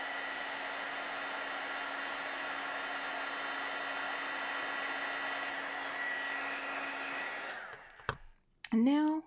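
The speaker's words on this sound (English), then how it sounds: "and I will grab my heat tool." An embossing heat tool melting embossing powder gives a steady loud blowing whir for about seven seconds, then cuts off, with a few brief bursts and a rising whine near the end.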